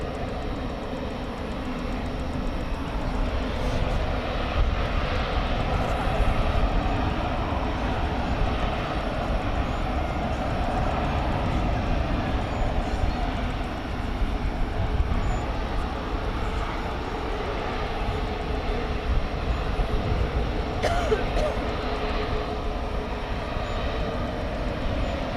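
A Qantas airliner takes off at night from runway 18 right at DFW Airport, a steady, broad, loud engine roar that holds for the whole stretch with no voices.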